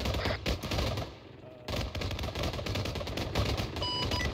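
Rapid bursts of helicopter machine gun fire rattle in a jungle military video game, dense and loud with a brief pause before the firing resumes.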